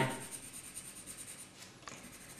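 Quick hand shading on paper for a straight-line graph, a soft continuous scratchy rubbing of pencil strokes, close and fairly quiet, with no talking.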